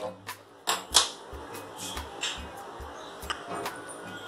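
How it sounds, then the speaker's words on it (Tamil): A gas stove is lit with a series of sharp, close clicks from the igniter, irregularly spaced, with a brief hissing burst as it catches. "Stove பத்த வெச்சுக்கலாம்"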